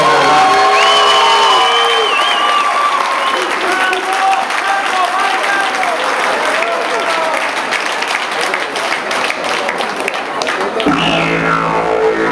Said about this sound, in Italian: Io voglio sentire un applauso forte